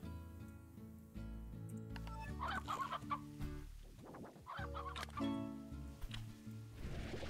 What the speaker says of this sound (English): Let me get rid of the chickens.